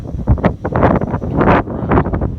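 Wind buffets a Typhoon H drone in flight outdoors, with loud gusty rumbling across the microphone that rises and falls in uneven bursts throughout.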